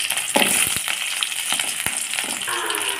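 Onions hit hot oil in a pan alongside chillies, giving a loud, steady close sizzle broken by a few sharp scrapes and taps of a spoon.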